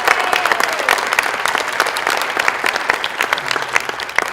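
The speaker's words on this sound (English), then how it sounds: "So Charlie needs a round of applause." Steady audience applause at a safety and security team training event, dense continuous clapping from a crowd at close range, with no talking over it.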